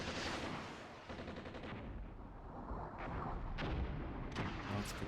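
Gunfire and battle noise in a Cold War real-time strategy game, a dense, muffled wash of continuous shooting with a few sharper cracks rising out of it.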